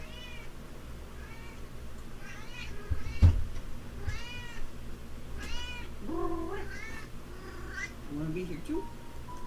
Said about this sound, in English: I hear my kitty cat calling out to me.